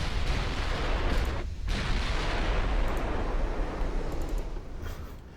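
Enemy battleship gunfire from the naval warfare game Ultimate Admiral Dreadnoughts, a continuous heavy roar of booming artillery that rumbles loud throughout with one brief dip partway through.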